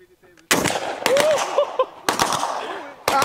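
Loud gunshots at an indoor-style gun range, three sharp close blasts spaced about a second apart, each with a ringing tail, and excited voices in between.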